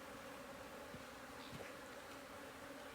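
Honey bees inside an open hive during a beekeeping class give off a continuous, dense droning buzz close to the listener, steady and unbroken throughout.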